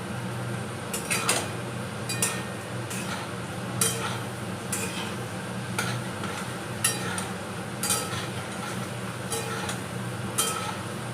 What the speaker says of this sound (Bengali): আলুটা ভেজে তুলে নিয়ে আসছি।